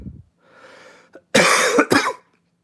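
A man working on a nitro RC car engine lets out two loud, close coughs right after a faint breathy sound, then falls quiet.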